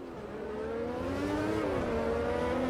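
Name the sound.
race car engines in Automobilista 2 video game, throttle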